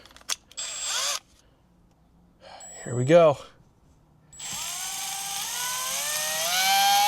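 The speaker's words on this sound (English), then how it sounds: "Also going to use a much less powered screw gun as my drill." A low-powered screw gun drills slowly into a $65,000 truck's headliner, giving a rising whir near the end after a short burst earlier, with someone speaking briefly in between.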